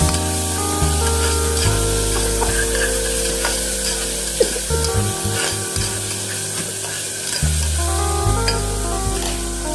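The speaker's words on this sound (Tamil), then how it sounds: "இஞ்சி பூண்டு பேஸ்ட் போட்டுக்கணும். போட்டு நல்லா வதக்கணும்." Ginger garlic paste sautés in a pan for chicken curry, a continuous loud sizzle with faint stirring scrapes, heard beneath steady background music.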